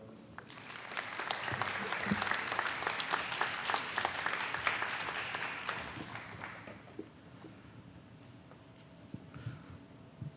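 Commencement audience clapping to welcome a speaker, a steady, fairly distant wave of applause that swells, holds for about six seconds, then fades into scattered claps and room noise.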